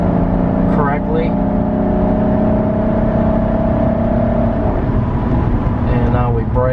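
A 1991 Mercedes 350SDL driving along, its engine a steady droning hum with a smooth transmission shift partway through and no jolt.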